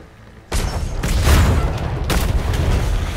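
A ship's cannon broadside in a pirate sailing video game: a sudden heavy boom opens a sustained roar of overlapping blasts, with a second burst of booms about a second and a half later, loud and close, no talking.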